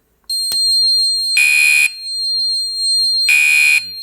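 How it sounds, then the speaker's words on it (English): A fire alarm horn, set off from a pull station, sounds loud and close in two harsh buzzing bursts over a continuous high electronic tone, with a short click just before the first burst. "So I'll activate the pull station, and here comes the alarm."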